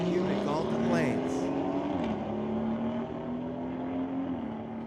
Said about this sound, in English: A 2018 BMW racing a Roush Mustang.